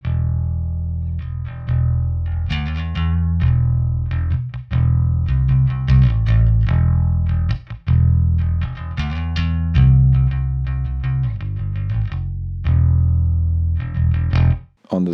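Bass guitar played through the R2 clean channel of a JPTR FX Double Jive pedal into a Two Notes bass V-shape impulse response, loud, punchy plucked notes and short phrases in a steady groove with brief gaps.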